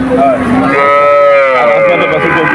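A calf lets out one loud, drawn-out moo at a busy cattle market in Betaga, the call rising and holding with a rich tone before trailing off.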